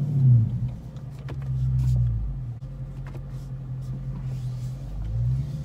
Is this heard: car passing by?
yes